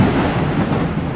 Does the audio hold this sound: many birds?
no